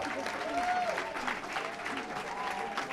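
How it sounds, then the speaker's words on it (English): Steady applause from a panel discussion audience, a dense wash of clapping that holds at an even level throughout, with faint voices mixed in. "A huge round of applause."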